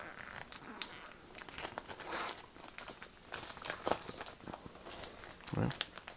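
Plastic comic book bag being pulled open and peeled from its tape, close crinkling and rustling in irregular bursts with a few sharper crackles, while a person talks over it.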